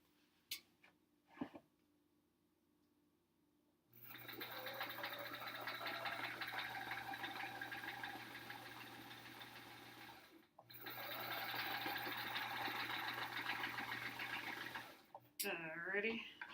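A sewing machine stitches small pieces of quilt fabric together, running in two long steady bursts of about six and four seconds close up. The runs follow brief handling noises and a quiet stretch.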